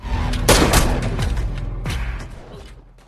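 A police officer's pistol fires in a film scene, two sharp loud shots about a second apart, each with a booming echo that decays into quiet.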